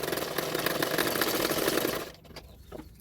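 A sewing machine runs a steady, close, whirring stitch for about two seconds as it sews extra lining fabric along a blouse neckline, then stops, leaving a few faint handling sounds.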